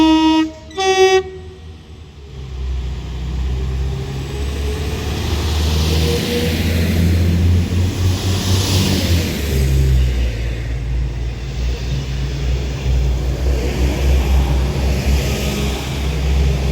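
A Northern train to Manchester Airport pulls out of Bolton station after two short horn toots, its diesel engine rumbling loudly and steadily as it departs.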